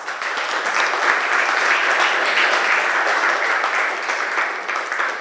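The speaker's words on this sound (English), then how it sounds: "I assume the applause is because we're quick." An audience in a lecture hall applauds after a physics talk on axions, a steady, dense wash of clapping filling the whole stretch at even loudness.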